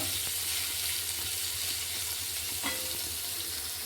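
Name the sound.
onion and bitter gourd frying in a pan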